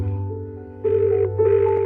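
A telephone rings on the line during a call, two short electronic ring bursts over a steady low tone, clear and close.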